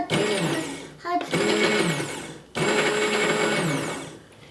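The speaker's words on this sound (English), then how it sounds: "you're just going to press the button and pulse a few times" Immersion blender pulsing homemade mayonnaise: three loud whirring bursts with short pauses between them, close by, motor pitch shifting as it works through the thick emulsion.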